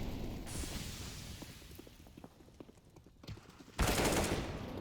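Gunfire in a professional Counter-Strike: Global Offensive match on the Mirage map, with scattered shots and bursts under crowd-like game ambience, then a loud close burst of fire near the end.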